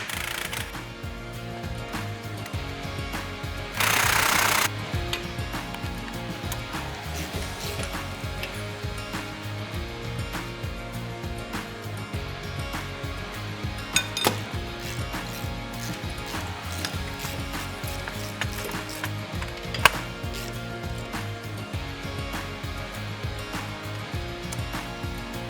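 Bolts are worked out of the suction housing on a PVP double disc pump with a ratcheting wrench, giving faint, continuous mechanical clicking and rattling at close range, with a brief burst of hiss and a couple of sharp knocks.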